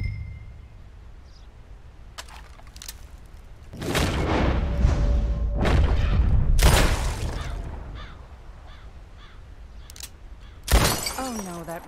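Gunshots and shattering targets in Red Dead Redemption 2: several sharp cracks and breaking bursts spread across the span, some loud and close, with a faint voice in the background.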